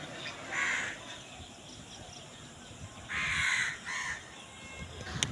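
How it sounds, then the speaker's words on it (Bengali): Crows caw from a distance, two short bursts of harsh calls separated by a pause, over a faint steady background hiss. "কাকগুলো ভয়ে গাছের মগ ডালে পাতার ফাঁকে এমনভাবে লুকিয়ে আছে"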